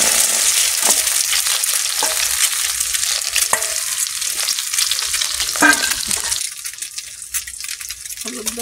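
Eggs dropped into a very hot pan, a steady loud sizzle with occasional spatter and crackle, easing off and thinning toward the end.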